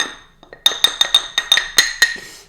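A pestle clinking against a mortar holding baking soda while making homemade siwak toothpaste, about nine sharp, bright ringing taps in a quick uneven rhythm, close and clear.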